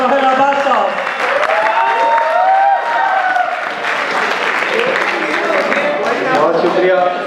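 Applause rises from an audience at a university mushaira in Lahore as a poet is welcomed, a sustained clapping under a voice that keeps talking over it.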